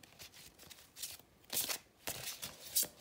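Tarot cards being shuffled by hand up close, several quick riffling bursts of papery flutter separated by brief soft pauses.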